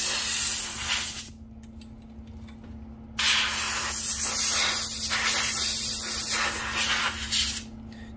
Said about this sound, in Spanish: con el aire a presión sale mucho mejor el churre. Incluso lo puedes echar a presión aquí en el medio de la ranura esta.